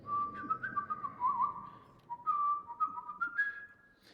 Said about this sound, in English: Sit and whistle for a while.